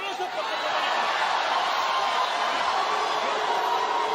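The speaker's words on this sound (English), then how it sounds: "Crowd reacting to a little bit of tomfoolery in the ring." A boxing arena crowd in Dubai reacts to playful antics in the ring with a steady wash of chuckles, laughter and scattered cheers. The noise is loud and continuous throughout, with no clear single voice standing out.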